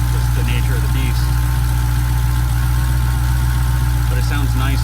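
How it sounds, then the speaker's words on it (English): A Hellcat V8 fitted with a new supercharger idles at steady volume, a constant low engine drone with a faint high whine on top. Voices talk over it now and then. "especially once the engine starts idling even quieter"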